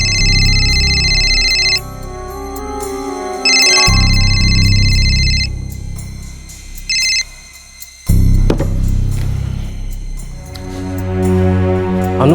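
A phone rings over and over in a Crime Patrol crime drama, each electronic ringtone burst loud and clear, and short bleeps and a low dramatic score play underneath.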